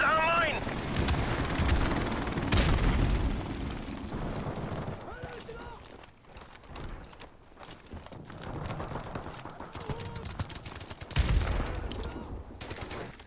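Call of Duty: Modern Warfare Remastered multiplayer gunfire, with a couple of loud shot bursts and scattered distant firing amid busy game sounds.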